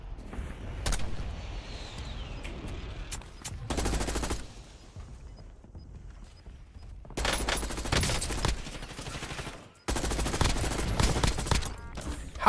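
Bursts of KSV submachine gun fire with an eight-attachment loadout in Call of Duty, loud rapid volleys coming in several separate stretches with quieter gaps between.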